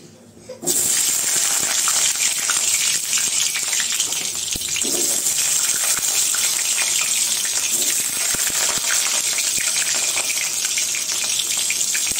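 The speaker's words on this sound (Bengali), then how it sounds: "আগে আলুগুলো ভেজে নিব। কড়াইতে তেল দিয়ে দিচ্ছি, সরিষার তেল।" Mustard oil in a wok for frying potatoes, a steady loud hiss and crackle that starts abruptly and continues evenly, with occasional small pops, no talking.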